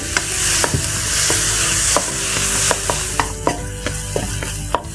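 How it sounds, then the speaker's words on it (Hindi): Onions and tomatoes fry over high heat on a chulha stove, a loud steady sizzle broken by repeated sharp spatula taps and scrapes against the pan as they are stirred, with no talking. "यहाँ प्याज डाल देते हैं एंड टमाटर। ठीक है, इसको भून लें।"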